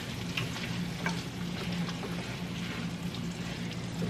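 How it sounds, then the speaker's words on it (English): Food being stirred together in a cooking pan, a faint continuous sizzle with soft scraping and tapping of a spoon, no talk. "So I'm going to stir this together and just let this cook."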